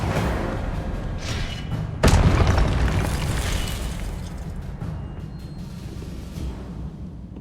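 A spell blast in the game Hogwarts Legacy, a sudden booming burst that hits about two seconds in and rumbles on amid a dense, noisy game soundscape.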